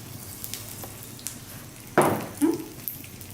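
Mustard seeds in a spoonful of hot oil on a griddle give a soft, sparse crackle with a few faint pops and two louder sputtering bursts close together.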